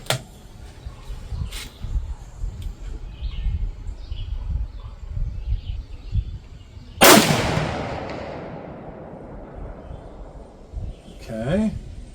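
A single loud Remington Hi-Speed .30-06 rifle shot with a 125-grain pointed soft point bullet cracks sharply and then decays in a long rolling echo, with quieter outdoor background sounds before it and a brief faint noise near the end.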